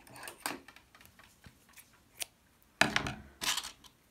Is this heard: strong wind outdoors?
no